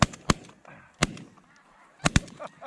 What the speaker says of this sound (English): The amount of snow geese that are coming into this valley is incredible.